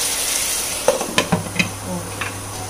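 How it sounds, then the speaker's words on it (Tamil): Brinjal sautéing in oil in a home kitchen pan, a steady soft sizzle with a few sharp spoon clinks and scraping stirs, close and alone without talk. "கத்திரிக்காய் கொஞ்சம் நல்லா வதங்கட்டும் எண்ணெயில்."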